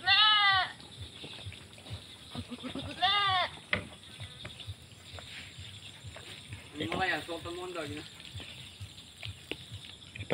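Goats on a farm bleat in several close, wavering calls, with a loud burst at the start, another near three seconds and a longer one around seven seconds, over rustling farm background and scattered speech.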